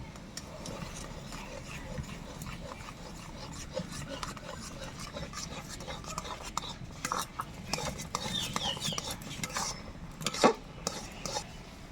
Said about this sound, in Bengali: জলটা গরম হয়ে গেছে, সুজিটা ঢেলে দাও।